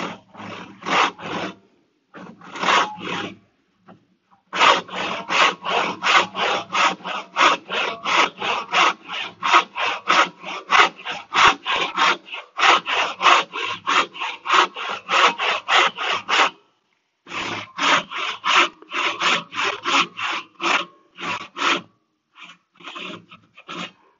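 Thick wood pieces held in a vise are sawn with rapid, rhythmic back-and-forth rasping strokes in several long runs broken by brief pauses, loud and close.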